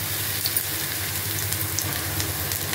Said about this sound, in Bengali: তেলটা গরম হয়ে গেছে, এখন আমি মোচার পাকোড়া ছোট ছোট আকারে দিয়ে দেব।